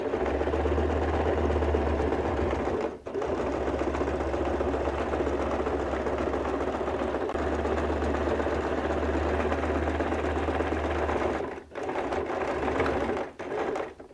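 A sewing machine stitching around a pocket patch runs in a fast, even mechanical whir, close and steady, stopping briefly twice before resuming.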